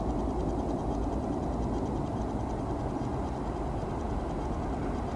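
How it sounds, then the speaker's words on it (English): A westbound train rolls past on a bend near Irwin, Pennsylvania, a steady loud rumble of railcars that fills the whole stretch without letup. "second westbound train of the day"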